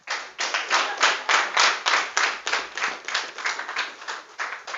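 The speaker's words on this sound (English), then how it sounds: "Continue to clap." Audience at a school debate competition claps steadily, many hands producing a dense, rhythmic patter that swells and dips in regular waves, fairly close and without voices.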